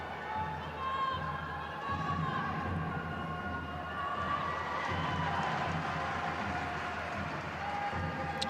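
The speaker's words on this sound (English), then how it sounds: "You can hear the applause from the crowd here at Goodison" Home football crowd at Goodison during a women's league match, a broad wash of applause and murmuring from the stands, steady and moderately distant, with a faint whistle-like tone above.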